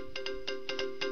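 A short electronic jingle of bright, pulsing tones repeats in quick bursts, clean and alone.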